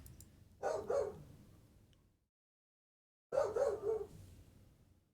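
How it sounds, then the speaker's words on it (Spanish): A pet dog barks indoors in two short bursts of a few barks each, separated by silence, at moderate distance with no talk over it. "Disculpen mi perro que está por ahí."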